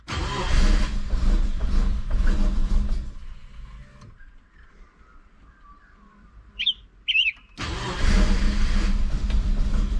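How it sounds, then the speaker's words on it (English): A Subaru Forester with fault codes runs roughly, then cuts out into near silence broken by two short electronic beeps, before the engine fires and runs loudly again. "Had to turn the car on many times"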